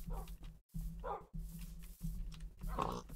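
Pet dogs in the Minecraft video game bark in a few short yips spaced through the clip, mid-loud over a steady low game hum and background music.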